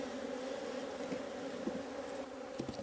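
A steady, close drone of an aggressive honey bee colony buzzing in a hive box, with a few individual bees whizzing past near the end.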